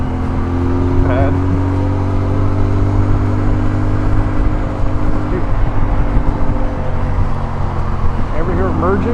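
A motorcycle engine drones and shifts pitch under steady road and wind noise while riding, recorded close on a helmet-mounted boom mic, with a few low rumbling swells from nearby traffic.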